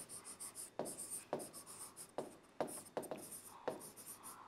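Pen writing on paper in quick, faint scratchy strokes, several short bursts repeating close by with small pauses between them.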